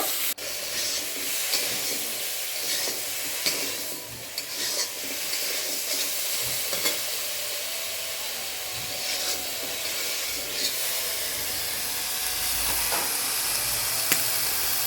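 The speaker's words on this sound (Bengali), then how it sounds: "অল্প নাড়াচাড়া করে নিব" Small fish seasoned with salt and turmeric crackle and hiss in a pan, with a constant dense frying sizzle and repeated scraping stirs of a spatula throughout, near and fairly loud, no one speaking.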